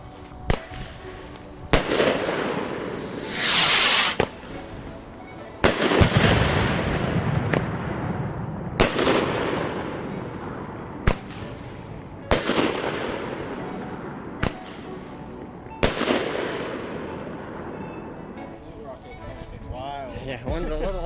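Firecrackers go off at Boom City one after another, about nine sharp, loud bangs spaced a couple of seconds apart, each ringing out briefly while people talk nearby between blasts.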